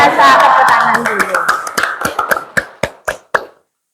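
Students in a high school classroom clap in unison, starting as a loud burst under voices and then thinning into a slowing run of single, separate claps that ends in silence.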